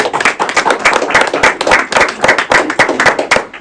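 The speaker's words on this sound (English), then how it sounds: "Let's give them a huge round of applause." Lively applause and clapping from a gathered audience at an elementary school honoured as a Blue Ribbon School, dense overlapping claps with a few sharper individual hand strikes standing out, steady and fairly loud throughout.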